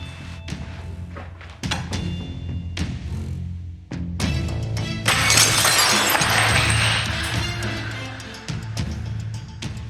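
A breakable object shatters loudly on the floor in a long, bright burst of breaking glass, after several dull thumps and knocks, with no speech over it.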